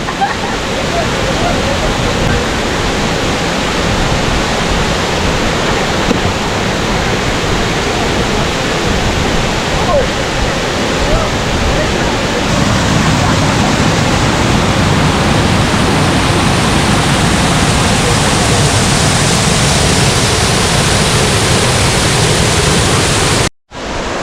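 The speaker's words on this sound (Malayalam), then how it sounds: "ഞാനിപ്പോൾ അരുവിക്കുഴുവിയിലെ അതായത് ഏറ്റവും വലിയ വെള്ളച്ചാട്ടത്തിൻ്റെ അടുത്ത് വന്നിരിക്കുകയാണ്" The Aruvikkuzhi waterfall at Thadiyoor in Pathanamthitta roars up close as a loud, steady, unbroken wash of falling water that fills the whole stretch before cutting off abruptly at the end.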